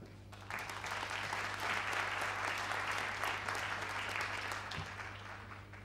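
Audience applause for Saxony's Minister-President Stanisław Tillich at a 2009 forum, a steady dense clapping that fills the hall throughout, with a constant low hum running underneath.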